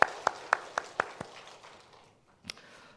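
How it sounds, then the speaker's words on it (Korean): A church congregation gives a short round of applause, six or seven sharp, fairly close claps in a quick rhythm that thin out and fade, then one last faint tap after a pause. "우리 감사히 먹겠습니다라고 박수 한번 할까요?"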